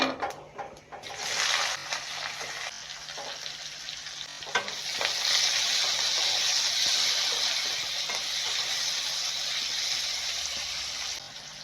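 Chopped onions hit hot oil in a wok already seasoned with bay leaves and cumin, bursting into a loud, steady sizzle that holds for several seconds with occasional faint clinks, no talking.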